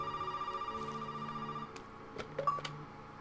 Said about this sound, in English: Alright, answer the phone.